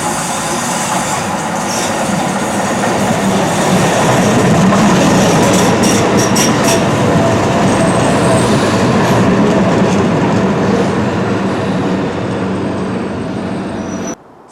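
Tyne Metro train running on the Tyne and Wear line, a loud continuous rumble of wheels and rails with rhythmic clatter and a high squealing tone, steady throughout before cutting off abruptly.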